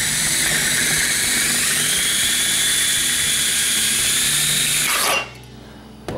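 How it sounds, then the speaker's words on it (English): A loud, steady power drill whines continuously for about five seconds while boring through a metal mason jar lid, then cuts off abruptly, leaving near silence. "just go into that hole and just let the drill do this job"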